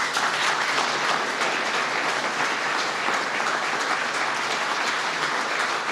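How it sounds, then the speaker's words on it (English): Sustained applause from an audience at a speech honoring a Korean War veteran, steady and dense throughout with no voice over it. "Let's give him a big round of applause."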